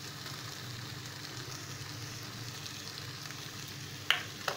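Paneer cubes added to sautéed vegetables in a pan for paneer bhurji produce a steady sizzle of frying, with a sharp utensil clink near the end as they are stirred.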